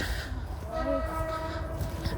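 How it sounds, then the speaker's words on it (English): A train passes at a distance in an outdoor neighbourhood, heard as a steady low rumble with faint tonal squealing or horn-like notes over the passing cars. "Oh, there's the train."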